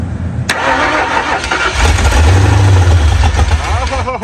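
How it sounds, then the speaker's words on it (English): A 1968 Mustang engine, fed gas poured into the carburetor, cranks and sputters as it tries to fire, a loud rough low rumble that swells through the middle and then falls off, with voices nearby. "we're gonna dump some gas in this thing and see if it'll fire"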